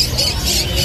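A lutino cockatiel squawks at a busy pet bird market, its harsh, shrill calls running steadily through the short clip over a constant bed of loud chatter from other caged birds nearby.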